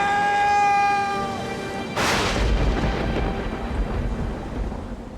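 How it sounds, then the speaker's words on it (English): Thunder booms and rolls through a worsening mountain storm at nightfall, a sudden loud crack breaking in after a sustained tonal hum, then a long rumbling tail over steady noise. "As night falls, the storm gets worse."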